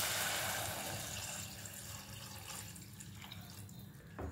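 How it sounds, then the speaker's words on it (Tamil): Water poured into a pan of sautéed onion, tomato and drumstick stems for soup, a quiet close splashing, gurgling flow that tapers off over a few seconds, heard alone without talk. "இப்போ நம்ம தண்ணி ஊற்றிக்கலாம்."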